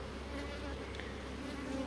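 Honey bees on a wooden beehive frame fitted with a corner-to-corner wooden strip instead of wires, giving a steady, close, continuous buzzing hum with no talk.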